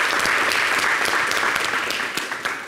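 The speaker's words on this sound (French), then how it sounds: "On applaudit pour vous" An audience at a talk-show taping breaks into steady, close applause, a dense patter of many hands that holds level and then eases off slightly at the end.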